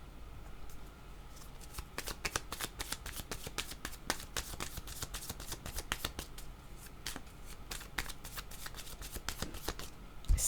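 Cards being shuffled for a card reading, close and quiet, with repeated crisp riffling bursts in an irregular rhythm throughout.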